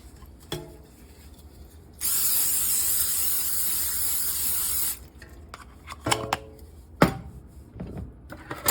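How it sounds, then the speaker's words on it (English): A steady three-second hiss of cooking spray from an aerosol can onto a pan, followed by a few sharp clinks and taps of cookware. "I'm gonna spray my pan here"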